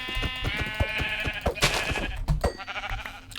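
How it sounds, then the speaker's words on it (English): Sheep bleat in the Minecraft video game, several wavering calls one after another over a steady backdrop of game music, fairly close and clear. "Oh, there are sheep over there."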